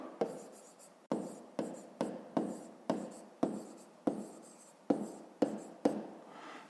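A pen writes figures by hand, about a dozen crisp taps and short strokes in a steady rhythm, close and clear with no talking.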